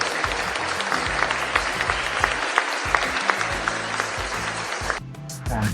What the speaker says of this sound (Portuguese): Aplausos do público presente.